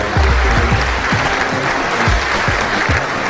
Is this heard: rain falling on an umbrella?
no